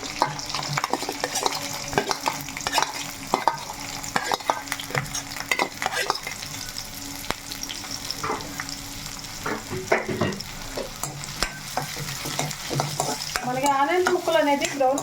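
Chicken leg pieces fry in a pan for a home chicken curry, a continuous sizzle broken by frequent close scraping and clattering stirs, no talking.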